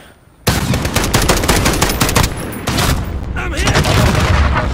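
Rocket launcher explosion and rapid gunfire in a shooter video game's survival mode: a sudden loud blast followed by continuous dense automatic fire and booms, with a player's voice shouting over the noise.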